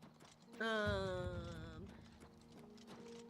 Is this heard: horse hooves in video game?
yes